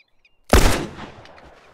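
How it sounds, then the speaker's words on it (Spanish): A single gunshot fires at a rat in The Last of Us video game, a loud sudden close blast after silence that rings out and decays over about a second. "Si yo le disparo una rata."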